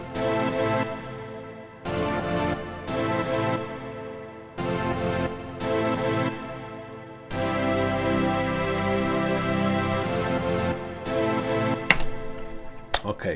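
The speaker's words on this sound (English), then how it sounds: "that with the brass and the original chords we did earlier all together sound like" Beat built in FL Studio layering a synthetic pluck, brass and chords, 2000s pop style: rhythmic plucked chord stabs in repeating bars with a sustained brass-like pad joining midway, fairly quiet and without talking.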